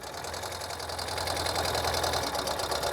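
A 2023 Ural Gear Up 2WD sidecar motorcycle engine idles with a steady, close mechanical chug and knock, and a faint clunk as it drops into first gear, continuous and fairly loud.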